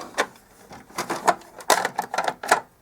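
A part of an HP LaserJet 5P laser printer is pushed back into place, a run of close plastic clicks, knocks and sliding scrapes in an irregular rhythm.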